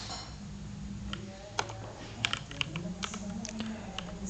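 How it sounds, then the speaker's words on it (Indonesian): Soft, quick keystrokes on a computer keyboard tap out in an irregular, faint run, with a few sharper clicks standing out against a quiet room. "untuk browser ya, kita cukup ketik http"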